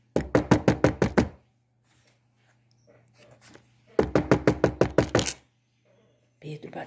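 Knuckles rapping on a door: a quick series of about eight loud, close knocks, a quiet pause with faint rustling, then a second matching burst of knocks.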